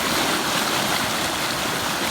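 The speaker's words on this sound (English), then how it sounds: "Crossing the White River." The White River rushes in a steady, broad wash of flowing water, loud and close, with no voices over it.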